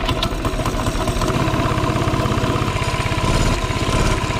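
A minibike engine fitted with a car muffler runs steadily at close range, a loud, even, throbbing putter with a slight rise in revs near the end and no voices.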